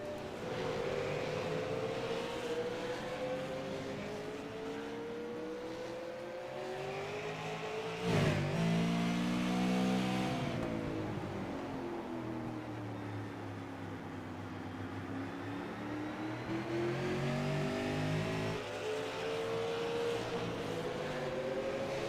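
Super late model race cars at a championship finale, engines droning steadily with rising and falling pitch as cars pass and accelerate, a brief louder roar midway, no talk.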